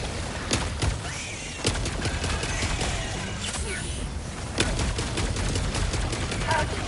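Automated sentry turret gunfire in Helldivers 2 rattles on steadily, with sharp shot cracks punctuating a continuous dense layer of battle noise throughout, at a fairly even loudness.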